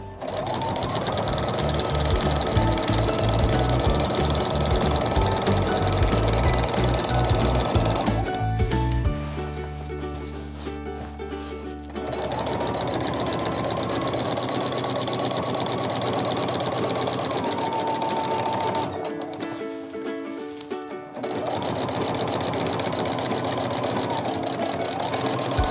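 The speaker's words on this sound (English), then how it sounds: "I'm gonna go ahead and secure my stitches by sewing 2 back and 2 forward" A sewing machine fitted with a walking foot stitches straight quilting lines in long steady runs, its motor whirring loudly and continuously, pausing twice briefly before resuming.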